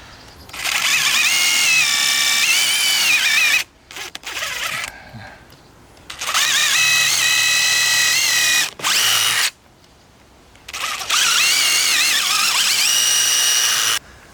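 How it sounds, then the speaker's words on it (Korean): Power drill boring a deep screw hole in wood during furniture making, three long loud whining runs with rising and falling pitch, separated by short pauses and brief bursts. "나사를 손에 안 잡히게 깊게 구멍을 내는 건데"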